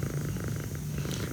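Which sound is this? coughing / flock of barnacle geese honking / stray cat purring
stray cat purring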